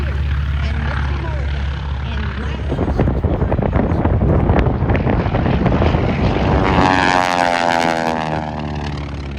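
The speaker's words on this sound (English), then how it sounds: "It's an air replica built air racer from the golden days. He does a little demo there." A replica golden-age air racer propeller plane flying a demo at an airshow: a loud, close engine and propeller roar that swells as it passes, then a falling pitch as it pulls away, with wind buffeting the microphone.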